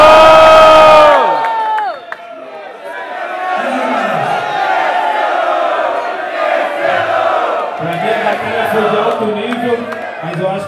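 Crowd at a freestyle rap battle roars, cheering and shouting continuously for a winner, loud and sustained after a brief amplified voice at the start.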